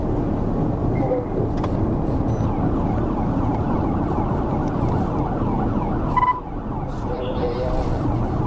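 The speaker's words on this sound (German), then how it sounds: "Nachdem das Kennzeichen bestätigt worden war, wurden nach der 221-Meilen-Markierung die Sirenen wieder eingeschaltet und eine Aufforderung zum Anhalten gegeben." Police car sirens sound during a high-speed highway pursuit, thin and partly buried beneath a loud, continuous roar of engines and road noise.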